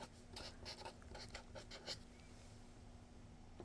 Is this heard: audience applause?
no